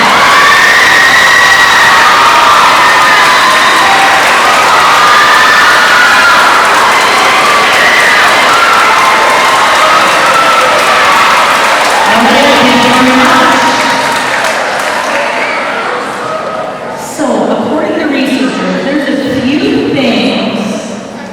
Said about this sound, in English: let's have some applause from everybody in our audience to celebrate.